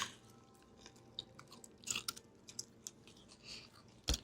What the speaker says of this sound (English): Show the people how you chew like a lady.